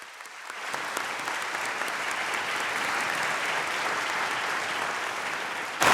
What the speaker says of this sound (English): How a round of applause.